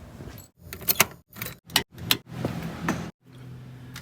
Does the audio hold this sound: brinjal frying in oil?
no